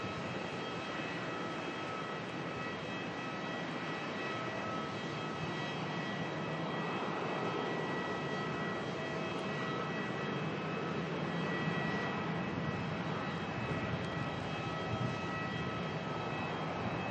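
A Boeing 787-9 Dreamliner approaches Melbourne, a continuous wide jet rumble that holds steady and swells slightly toward the end, with no talk.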